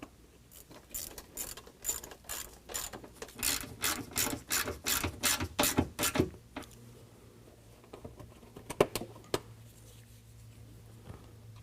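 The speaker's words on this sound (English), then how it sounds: "we can go ahead and reattach all of our hardware using a 10mm here" A ratchet with a 10mm socket reattaches hardware under the hood of a 2022 Ford Maverick, a fast run of loud rasping clicks followed by quieter, scattered clicks and mechanical handling.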